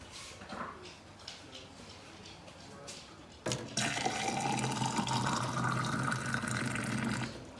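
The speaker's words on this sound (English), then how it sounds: "I get the cold water, pour it in" Cold water pours into a jar for fabric dyeing with Rit dye, a loud steady gush starting abruptly midway after a quieter stretch of faint clinks and handling, continuing strongly to the end.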